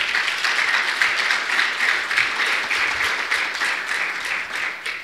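A church congregation applauds steadily, dense hand-clapping holding at an even level for several seconds and easing slightly toward the end, with no voices standing out.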